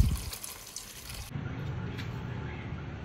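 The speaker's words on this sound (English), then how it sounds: "pouring hot water, sorry, cold water, so that it can stop cooking" A short burst of cold water pouring steadily over cooked homemade french fries, shifting in tone midway as the stream splashes onto them, with no talking.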